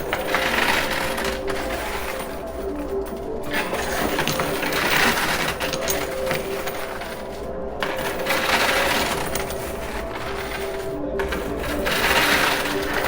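A high limit arcade coin pusher machine shoving chips and coins, with a constant whirring mechanical drone, ratcheting clatter and scattered metallic clinks of coins tumbling, loud and continuous throughout.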